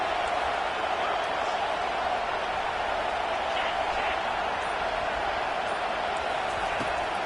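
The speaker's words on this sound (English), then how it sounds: "decibels rising as the crowd gets behind this defense on third down." A steady, dense roar from a stadium crowd in the College Football 25 video game rises behind the defense on third down, loud and continuous throughout with no break.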